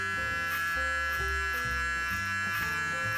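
Panasonic electric beard trimmer buzzing steadily as it cuts through a full beard, a close, continuous motor hum with slight pitch shifts as it moves across the hair.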